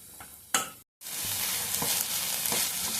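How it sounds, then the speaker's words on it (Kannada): Masala spices frying in hot oil in a pan for soya chunks gravy, a steady bright sizzle throughout with a brief gap and occasional scrapes of stirring, close and fairly loud with no talking. "ಎಣ್ಣೆಲೆಲ್ಲ ಚೆನ್ನಾಗಿ ಫ್ರೈ ಮಾಡ್ಕೋಬೇಕು"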